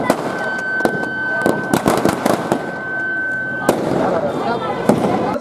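Deepavali firecrackers burst at a fire safety demonstration for students in Vellore, with sharp, loud cracks going off irregularly, some in quick clusters, over the background noise of a crowd.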